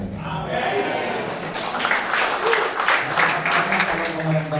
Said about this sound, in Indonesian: Tepuk tangan buat dulu